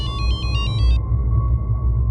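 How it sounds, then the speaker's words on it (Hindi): A telephone rings with a landline-style electronic ring, a short burst of repeated tones for about a second over a steady low hum, then cutting off. "लैंडलाइन नंबर से फ़ोन आया"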